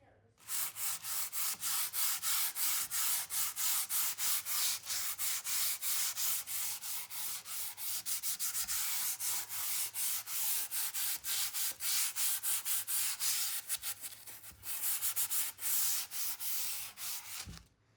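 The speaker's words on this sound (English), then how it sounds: "I'm just gonna take that 320 grit sandpaper Jami was using and use that to get off all the loose paint" Hand sanding of painted furniture with 320 grit sandpaper to knock off loose paint: steady, close scratchy back-and-forth rubbing strokes in a quick, continuous rhythm for the whole stretch, with no one talking.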